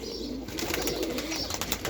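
Domestic pigeons coo in a loft, a soft continuous murmur of low throaty calls layered over steady background noise, close and moderately loud with no talking.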